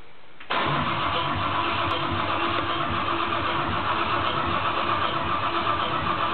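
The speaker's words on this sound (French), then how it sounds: "j'aimerais savoir si carbu démonté, ce moteur tourneront ou pas" A Ford 2.3-liter V6 Cologne engine with its carburetor removed starts abruptly and settles into a steady, loud idle, running evenly and close by with no speech.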